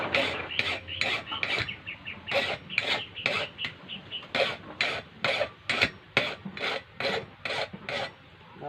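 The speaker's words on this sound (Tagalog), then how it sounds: "Kikil po natin yung dulo para tumulis." A tip being sharpened with a hand file, a rasping stroke repeated about twenty times in a steady, slightly uneven rhythm, close and clear.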